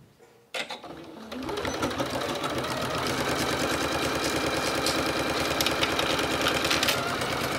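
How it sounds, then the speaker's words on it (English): A sewing machine stitches across a zipper pouch, starting with a sharp clack and then running at a steady, fast, even rattle for several seconds, close and alone. "And stitch across."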